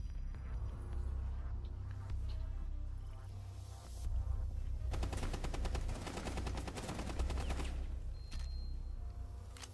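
Rapid automatic gunfire in Rainbow Six Siege, a dense burst of shots that swells loud in the middle of the stretch over a steady low hum, with sporadic sharper shots before and after.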